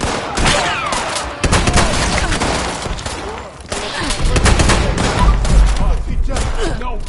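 Dense bursts of video game gunfire from Fallout 76, rapid overlapping shots and a heavy boom, loud and continuous over about seven seconds.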